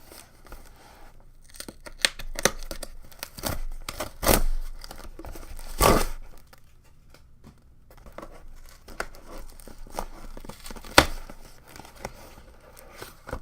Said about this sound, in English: So let's get this tape out of my way and get this thing opened up.